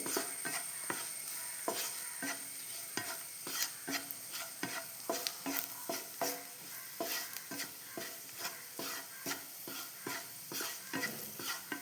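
Chilli powder being stirred in a pan on a Kerala-style stove, a steady run of rhythmic scraping strokes over a soft sizzle of frying, close and alone with no voices.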